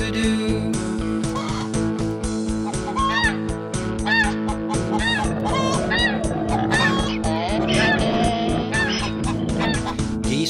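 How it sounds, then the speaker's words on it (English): Geese honk repeatedly on a farm, a loud, dense flock of calls layered over one another in a busy, continuous chorus, with another voice-like sound mixed into the din. "The geese are honking loudly"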